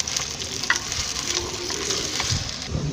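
Medium onions sizzle steadily in hot oil while they fry to a light brown, a close, continuous crackling hiss with no voices.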